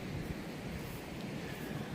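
Strong wind buffets a microphone outdoors on a very windy day, a steady, rough low roar with gusty rumbles and no talk.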